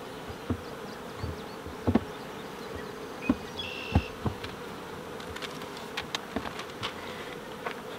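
Honey bees buzz around a beehive with a steady close drone, while individual bees fly past the listener with brief louder whines and occasional soft taps.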